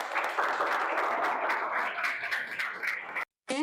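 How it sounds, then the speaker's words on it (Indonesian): Applause fills a school farewell event for a ninth-grade class, with dense, steady clapping from a crowd for about three seconds before it cuts off abruptly. "tepuk tangan untuk Alifah."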